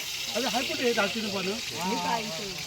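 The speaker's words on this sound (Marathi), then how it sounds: "मस्त फोडणी पडली आहे" Garlic sizzles in hot oil for a tempering at a village meal, a steady crackling hiss running underneath continuous nearby talking voices.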